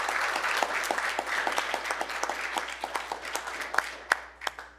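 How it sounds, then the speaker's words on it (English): A small audience at a city commission meeting claps with sparse, distinct hand claps that thin out and become irregular toward the end, in a quiet room. "So let's give them a round of applause one more time."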